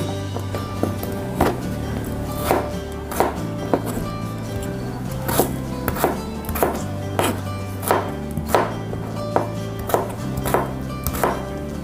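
A knife chops carrots rhythmically on a cutting board, with steady, evenly spaced sharp strikes throughout.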